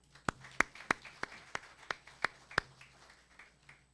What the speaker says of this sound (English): So let's give them applause for all this great effort here.